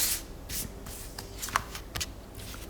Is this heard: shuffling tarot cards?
yes